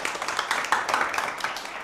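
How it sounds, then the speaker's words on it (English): A school audience at L.P. Untalan Middle School claps for Attorney General Moy, a dense, steady round of applause from a crowd in a room. "let's go ahead and give Attorney General Moy a round of applause again"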